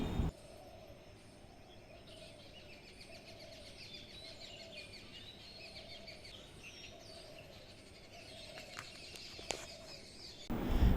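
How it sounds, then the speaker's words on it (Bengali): Faint, distant birds chirping and calling at dawn over a soft, steady background hum in a quiet outdoor setting. "চারিদিকে এত সুন্দর পাখি ডাকছিল, মনটা খুব ভালো লাগছিল। তোমরাই শোনো কি সুন্দর লাগছে।"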